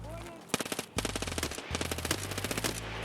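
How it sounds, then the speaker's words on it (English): Rapid bursts of automatic gunfire in the game Escape from Tarkov, loud and close, with dense rattling volleys after a brief pause and a few scattered single shots. "we hear a bunch of shooting and grenades going off"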